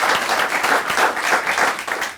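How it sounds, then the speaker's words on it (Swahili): Studio audience applause on a Kenyan talk show, a dense, steady burst of many hands clapping close and loud for about two seconds with no talking. "Wapi makofi yake?"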